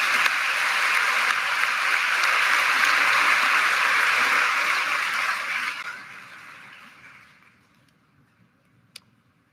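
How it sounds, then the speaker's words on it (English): Applause at a high school graduation ceremony: a large crowd claps loudly and steadily for about six seconds, then the clapping fades away into near silence with a single faint click near the end. "let's give them one more round of applause"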